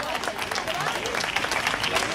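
An audience applauds at a forum event, a steady crowd clapping that fills the whole moment at moderate distance, with some voices mixed in underneath.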